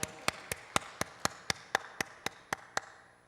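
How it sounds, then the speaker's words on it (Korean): Applause during a church worship service, heard as about a dozen sharp, evenly spaced claps in a steady rhythm that fade slightly toward the end, with no talking. "하나님께 영광의 박수 올려드립니다"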